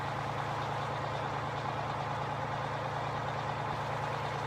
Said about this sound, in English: hopefully this truck will have enough oomph behind it to flip it over